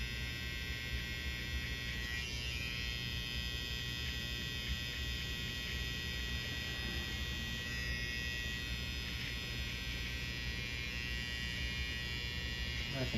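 An electric beard trimmer buzzes continuously up close while outlining a beard, a steady mains-like hum with the blade tapping along the line, faint talk underneath.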